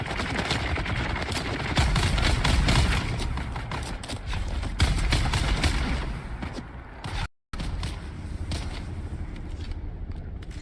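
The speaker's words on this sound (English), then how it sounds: "Did he just shoot them?" Gunfire in the video game Dune: Awakening: dense rapid bursts of automatic shots that crackle through most of the stretch, loud and close, with a brief dropout and then scattered fainter shots.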